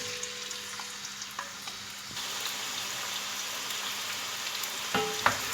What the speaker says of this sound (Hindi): इसमें हम अब फ्राइज़ तल लेंगे।